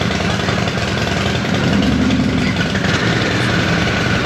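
A Harley-Davidson Sportster S motorcycle engine rumbles at a steady idle, close and fairly loud, with a deep, even running sound throughout and no speech.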